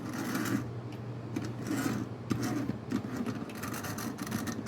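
A small electric motor in a dirty 1964 Tyco toy train whirs and rattles continuously at close range, with a steady mechanical buzz and faint clicking, with no voices.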